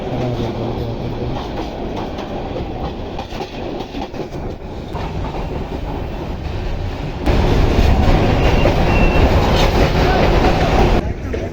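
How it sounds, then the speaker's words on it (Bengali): A passenger train running on rails, heard from inside a railway car: a steady loud rumble with rhythmic clickety-clack of wheels over joints, growing louder partway through, with no talking. "এখন এটা ট্রেন"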